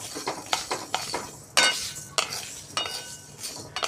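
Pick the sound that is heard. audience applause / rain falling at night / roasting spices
roasting spices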